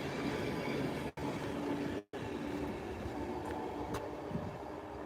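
An East Midlands Railway single-carriage train stands at Newark Northgate station before leaving on a Lincoln service, giving a steady rumbling idle with faint distant squeals and station ambience; no talking.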